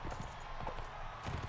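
Horse hooves clip-clop at a steady trot in the Mount & Blade Warband video game, a continuous rhythmic beat of fairly close hoof strikes over a dense background with faint battle ambience.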